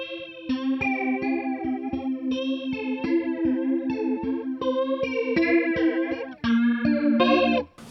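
An electric guitar plays a steady, repeating riff over a pulsing low note, washed in shimmering chorus and reverb effects, loud and continuous without voices.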